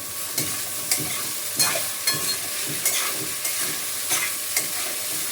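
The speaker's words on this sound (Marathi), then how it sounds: "आता साबुदाणा टाकते मी." Sabudana (sago) for khichdi is stirred in a hot pan, a steady sizzle under regular scraping strokes that come about once every half second, close and clear, with nobody talking.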